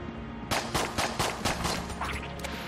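Rapid series of about eight snappy shots from a snowball gun in the game Enter the Gungeon, evenly spaced bursts firing close and loud over game background sound.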